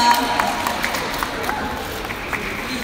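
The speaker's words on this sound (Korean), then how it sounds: "박수 부탁드립니다" An audience claps at a Montblanc UNICEF collection 'Pass It On' campaign launch event in Korea as an actor is welcomed onstage. The applause is a steady, moderately loud spread of crowd noise for a few seconds.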